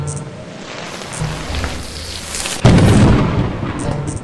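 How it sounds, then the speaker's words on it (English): Thunder cracks and rolls in a stormy Lethal Company game scene with the LethalEscape mod, heard over steady heavy rain, building to one loud sudden close boom that then rumbles on. "I gotta wait for lightning and then I'm gonna go."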